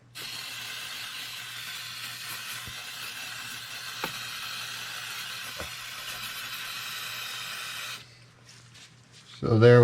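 Aerosol cleaner sprays steadily into an automotive throttle body to rinse grime from its crevices, a continuous loud hiss lasting about eight seconds before it stops, followed by a brief quiet rustle and a louder clatter at the end.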